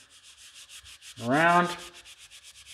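A damp rag rubbing fine pumice powder over the finish of a Mossberg shotgun, a rhythmic back-and-forth scrubbing hiss repeated many times at close range, briefly covered by a spoken word in the middle.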